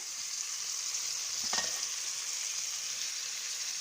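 Onions, tomato and carrot fry in a pan with a steady, even sizzle throughout, briefly stirred midway, with no one talking.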